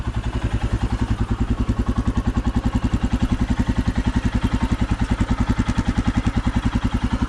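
Royal Enfield Himalayan 411 single-cylinder motorcycle engine running in morning city traffic in Nairobi, a steady rapid low thumping pulse, close and loud, unbroken for the whole stretch.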